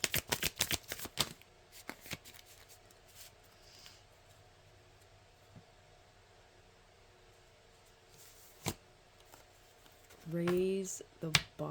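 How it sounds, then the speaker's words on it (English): Mystic Forest Oracle cards are shuffled close up in quick crisp riffling bursts at the start, followed by scattered single card snaps and soft handling in a quiet room, with a brief voice near the end. "let's get some Mystic Forest Oracle cards"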